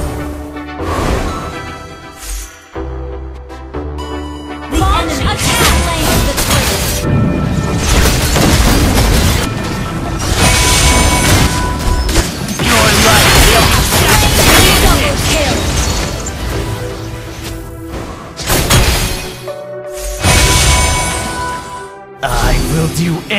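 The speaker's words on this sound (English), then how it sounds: "Our turret has been destroyed!" Explosive booms and crashes of a turret being destroyed in the mobile game Mobile Legends, loud and dense over busy battle effects, with an in-game voice announcing events over the din.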